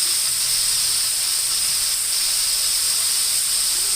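Pork with peppers, oyster sauce, sugar and soy sauce stir-frying in a pan, producing a loud, continuous steamy hiss that stays even throughout with no voices.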